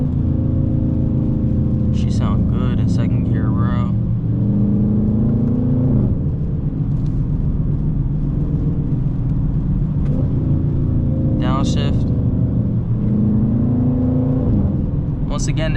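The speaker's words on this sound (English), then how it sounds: "Once again, this is a 2019 Dodge Charger RT" A 2019 Dodge Charger RT V8 driven in second gear in the rain gives a loud, steady engine drone and rumble inside the car. Brief squeaky sounds come through now and then.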